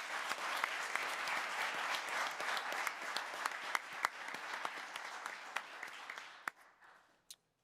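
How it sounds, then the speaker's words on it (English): Audience applause at a city council meeting, for the parks staff: dense, steady clapping from a crowd that runs for several seconds, then tapers off into a few last scattered claps. "we need to give them a round of applause as well"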